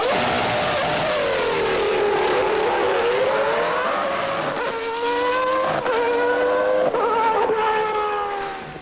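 A high-pitched Williams Renault FW15C Formula One engine whines continuously, pitch sweeping down and then climbing through several sharp revs and gear shifts, loud and close.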